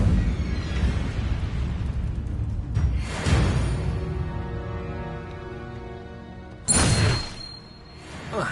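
Incendio fire spell cast in the video game Hogwarts Legacy, giving a loud whooshing burst of flame near the start, then a second sharp blast later, over a busy game soundscape.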